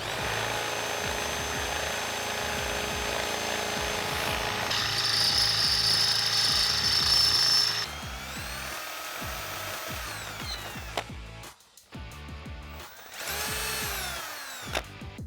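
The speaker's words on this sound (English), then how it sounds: "Now we can take a 7/16 inch drill bit and drill through our pilot hole." Power drill with a 7/16 inch bit boring through a pilot hole during a Jeep Wrangler TJ lift kit install, a steady high whine for several seconds, then stopping and starting in shorter bursts.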